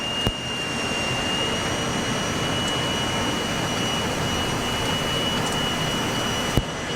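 Jet engines of a Boeing 737 Classic at takeoff thrust, heard from the cockpit as a loud, steady, continuous roar with a thin high whine, without speech.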